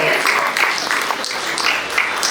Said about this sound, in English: Give a big round of applause as he walks up.